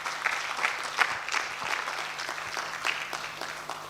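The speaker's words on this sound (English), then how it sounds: "So please give him another round of applause." Conference audience applauding, a dense patter of many hands at moderate distance that holds steady for several seconds.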